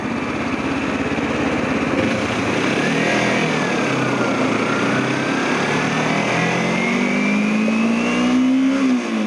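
A 250 motorcycle engine revs high and steady while riding, held up in its power band above 8,000 RPM; the whine rises and falls with shifts throughout, loud and continuous with wind roar and no talking.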